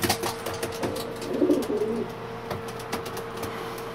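Pigeon coos softly in a loft, a brief low throaty call in the middle of a few seconds of faint background clatter and rustling, fairly quiet and close.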